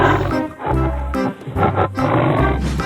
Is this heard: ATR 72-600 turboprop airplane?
no